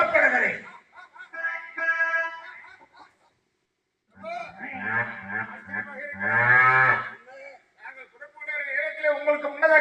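On a stage drama set, a buffalo serving as Yama's vehicle moos in long, loud, drawn-out calls, a short one, a pause, then two more extended bellows; the calls sound voiced by a performer imitating the animal.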